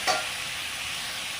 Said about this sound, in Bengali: লাল লাল করে ভেজে নিচ্ছি ফুলকপি আর আলুগুলো